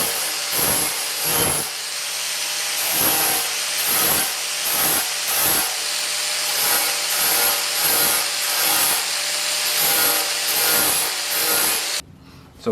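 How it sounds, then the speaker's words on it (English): Grinder working dents out of a car body panel, close abrasive rasping in repeated short passes with brief pauses between strokes, alternating rhythmically before cutting off near the end. "we just wanna kinda grind this one down a little bit, that one, just kind of alternate back and forth"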